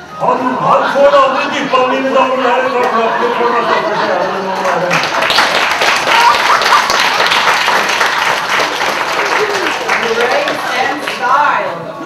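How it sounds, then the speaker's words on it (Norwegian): Audience applause at an anniversary revue show in Kroken, beginning under someone speaking and swelling into steady, close clapping for several seconds before fading. "Give him some applause."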